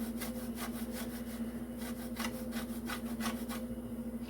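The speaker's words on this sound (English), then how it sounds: "you can use the grater to try break them up" Cassava for St Vincent bambam bread is rubbed against a grater in quick, even back-and-forth strokes, a steady rasping rhythm heard close up over a faint constant hum.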